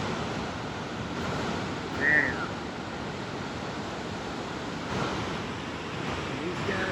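Steady broadband roar of heavy water pouring at Niagara Falls, seen up close from near a tour boat, with wind buffeting and a brief voice exclaiming over the constant rush.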